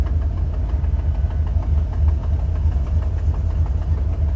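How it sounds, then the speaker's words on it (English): A Buick 455 Stage-1 V8 in a Regal T idles at about 900 RPM with a blown exhaust header gasket, a low, steady rumble overlaid by a rapid, regular ticking from the leaking exhaust, heard close and alone. "900 RPM at idle."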